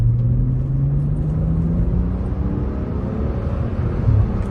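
A BMW 335i with the FBO bolt-on package pulls hard away from a stoplight in cold weather. The engine note climbs steadily and loud, a deep rising growl heard from inside the car, with no talking.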